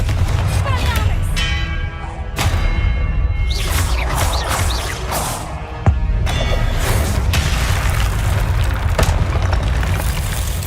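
The Confringo fire-blast spell goes off in the video game Hogwarts Legacy during a boss fight, with loud booming bursts and crackling magical impacts over game music, and a voice calling out spells among them.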